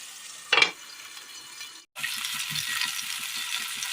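Curry cooks covered on a low flame, giving a soft steady sizzle with one sharp clatter early on, a brief break, then a continued bubbling fry with no talking.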